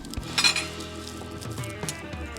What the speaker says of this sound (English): You just kind of stir it up a little bit.